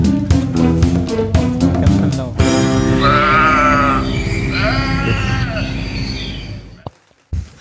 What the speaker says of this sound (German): Diese Schafe schlagen da durch.